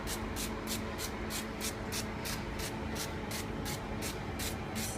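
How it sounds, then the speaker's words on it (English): Fry Light cooking oil spray hisses in about a dozen short, evenly spaced bursts as it coats potatoes for a roast dinner, each spritz close and crisp over a steady background hum. "And then I'm going to spray again with fry light."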